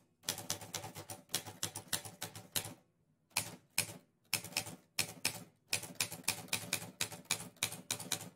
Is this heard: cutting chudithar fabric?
no